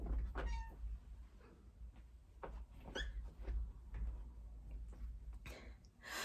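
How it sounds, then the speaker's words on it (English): A house cat meows indoors in a studio, a few short cries scattered across a few seconds over faint room noise and rustling. "The cat is coming in"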